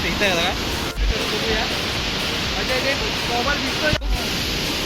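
Navlai waterfall at Hedvi on the Konkan coast roars as a constant loud broadband rush close by, with people talking over the water.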